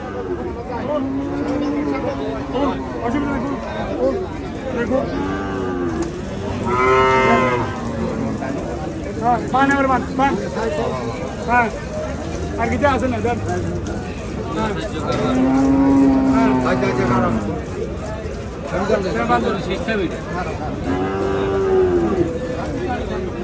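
Several Holstein Friesian cows moo loudly and repeatedly at a cattle market in Comilla, Bangladesh, some close and some farther off, over a crowded hubbub of people talking and a low engine drone.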